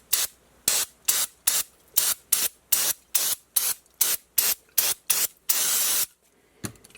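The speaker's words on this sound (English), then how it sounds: "start spraying and start scrubbing with the toothbrush" Short bursts of throttle body cleaner sprayed onto a VW GTI MK5 throttle body, about a dozen quick hissing blasts in steady rhythm followed by one longer continuous spray, then a few faint scrubbing sounds, close and loud.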